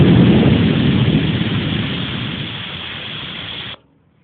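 An Emglo air compressor runs with a loud, steady broadband rushing drone that slowly eases in strength before cutting off abruptly, leaving near silence.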